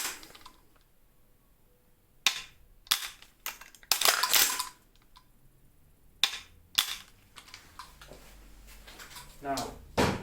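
Sharp mechanical clicks from a KWA LM4C PTR gas blowback airsoft rifle as its trigger is pulled and reset, several spaced snaps with a few louder clacks, close and alone.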